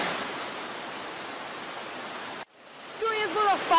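Broadband rushing water from a waterfall in wild Tasmania, loud and steady, then cutting off abruptly partway through, after which faint ambience and brief chirping sounds follow.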